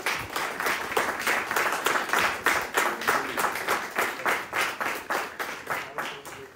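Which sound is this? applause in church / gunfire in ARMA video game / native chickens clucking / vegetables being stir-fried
applause in church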